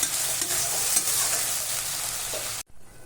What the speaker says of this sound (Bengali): এবার মশলাটা কষতে থাকবে।